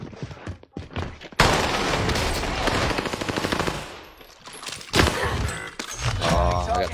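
Gunfire rattles in the video game Warzone: a long close burst of automatic fire, a pause, then more shots and thuds with scattered impacts, loud and dense throughout.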